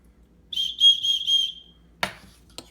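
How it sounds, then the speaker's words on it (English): An emergency whistle built into a paracord bracelet gives one loud, shrill blast of about a second with a slight warble, fading out at the end, followed by a couple of sharp clicks. "It has a compass, emergency whistle. Let me blow it to see how loud it is."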